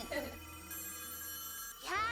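Telephones ring in the video game Nikke as a steady, continuous electronic ringing that fills the whole stretch, with brief voices at the very start and end.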